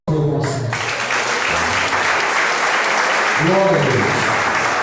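A church congregation claps loudly and steadily in dense applause, with a voice speaking over it near the start and a sung or drawn-out vocal tone rising toward the end.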